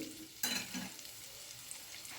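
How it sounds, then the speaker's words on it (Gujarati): Peas and peanuts are stirred into green pulao in a pan, with a brief scraping spoon stroke and soft sizzling, fairly faint and close. "વટાણા અને મગફળીના બી છે બોલ કરેલા એ ઉમેરી દઈશું સાથે બધું સરસ મિક્સ કરી દઈશું"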